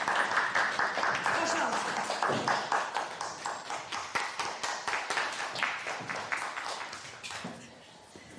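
An audience applauds to welcome a writer onto a stage, a dense wave of clapping that settles into a steady rhythmic beat and fades toward the end, with a brief spoken word over it.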